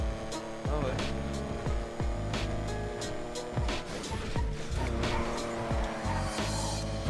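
In GTA 5 the JB 700 car slides with repeated tire squeals and skids over a revving engine, loud and close, in bursts across the whole stretch.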